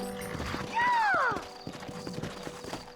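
Horses in the video game Red Dead Redemption clip-clop along at a trot with a short whinny rising over the hooves, close and clear, while voices speak around them.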